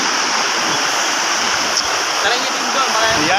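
Clear, cold running stream water rushes with a steady, close, broadband gush near Coto Mines in Masinloc, Zambales, while people speak over it.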